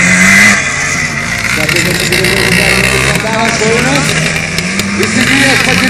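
Motocross motorcycles at a retro race in Anykščiai, engines revving and droning loudly with shifting pitch as bikes accelerate and pass, under an excited commentator's talk.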